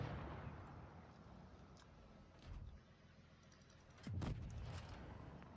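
Tank gun firing in a tank video game, two heavy booming shots a couple of seconds apart, the second louder and deeper, over a steady engine rumble.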